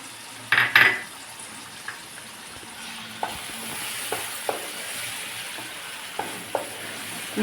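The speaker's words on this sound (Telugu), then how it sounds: "బాగా వేగిపోయింది ఇప్పుడు ఈ పేస్ట్ వేసుకున్నాం" Spice paste frying in a pan for a prawn and raw mango curry gives a steady soft sizzle, with a few loud scrapes near the start and sparse light spoon taps and clinks scattered through.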